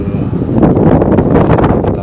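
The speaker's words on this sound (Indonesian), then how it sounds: "Aduh, anginnya kencang banget." Strong wind beside rice fields buffets the microphone in a loud, continuous low rumble with gusty swells, dominating the scene.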